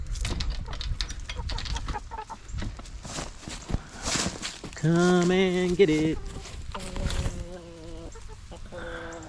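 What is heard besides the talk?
chickens clucking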